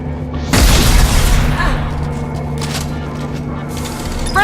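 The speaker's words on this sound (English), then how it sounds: "We've been spotted! Gunship!" Explosive boom bursts out loud in a Mass Effect 2 gunship attack, followed by rumbling debris and crackling, with weapon fire and battle noise continuing in the background.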